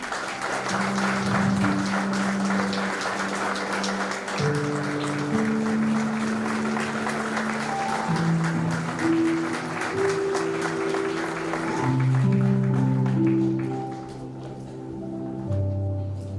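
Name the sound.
applause at a law fest ceremony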